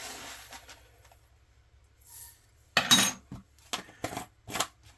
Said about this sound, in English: Going to go ahead and add in the coriander